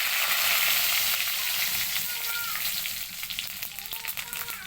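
Dried chillies and bay leaves sizzle in hot oil, a loud steady crackling fry that eases slightly toward the end, with faint stirring and no voices.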